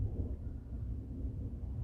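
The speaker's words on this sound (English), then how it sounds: "can you hear the thunder?" Low, continuous rumble of distant thunder rolling steadily with no distinct crack, heard faintly indoors while nobody speaks.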